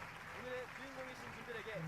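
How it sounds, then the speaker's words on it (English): An audience applauds at a youth contest assembly, a faint, steady patter with a person's voice speaking over it. "Let us give another round of applause to the two winning teams"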